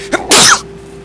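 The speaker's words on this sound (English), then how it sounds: "I feel a sneeze." A single sharp sneeze, close and loud, with a short breathy lead-in and a quick burst that fades fast.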